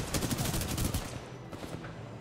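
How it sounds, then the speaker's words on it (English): Rapid automatic gunfire from an unusual weapon in the Titanfall 2 video game: a fast burst of sharp, evenly spaced shots for about a second, then a few scattered shots trailing off, moderately loud. "this is a weird gun"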